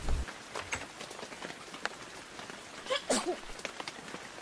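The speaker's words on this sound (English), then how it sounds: "Is it never going to stop raining?" Rain falling on surfaces in a children's cartoon story, a continuous patter of drops with a few louder splashy bursts near the end.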